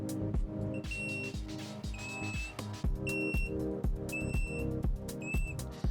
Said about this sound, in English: we're going to touch it now with just our fingers, and it will start beeping and emitting light signal